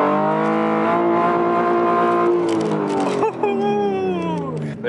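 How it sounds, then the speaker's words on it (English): A car engine revs hard in first gear while learning to drift, a loud, close, rising roar with a brief dip and then a renewed climb. Voices may be mixed in. "put in gear from one. First gear. Rev it up."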